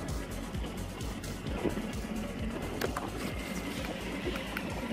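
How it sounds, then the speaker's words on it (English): Fishing reel spool paying out line on a boat while deep dropping, a continuous fast whirring and ticking under engine rumble and water noise. "you flick this lever right here and that's gonna open your spool"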